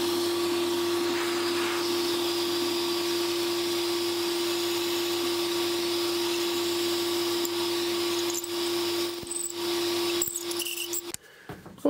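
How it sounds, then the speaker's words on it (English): A vacuum cleaner or Hoover-type extractor pipe cleaning out a toilet cistern pipe, a steady loud whine and whoosh with a strong tonal hum, running close and alone before knocking and cutting off near the end. "And with the addition of a vacuum,"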